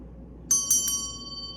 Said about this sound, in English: We also have this beautiful bell.